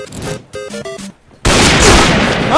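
Gunfire in the Point Blank first-person shooter game: a loud, dense burst of shots fills the second half, following a short stretch of tonal game sounds.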